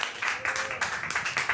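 Church congregation clapping together during a sermon, a quick burst of steady rhythmic applause at moderate distance, with no voices over it.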